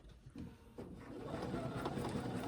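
Sewing machine stitching around a quilt block guided by a ruler and spacing gauge, the motor starting in short bursts then settling into a steady close whirring run.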